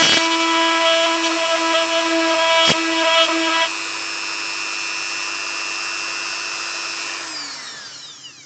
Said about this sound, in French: on commence à faire notre perçage